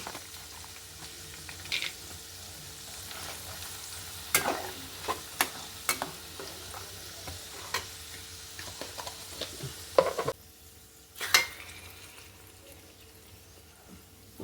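Cashew nuts frying and being stirred in a pan for Udupi-style Hayagriva Maddi, a traditional sweet, with a soft steady sizzle broken by several sharp scraping clicks of the spoon, alone without talk.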